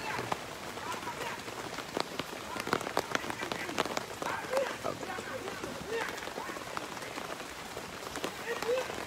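Rain falls steadily on a surface in southern Thailand where an elephant logging team hauls rubber wood, a dense patter of drops throughout with scattered louder hits.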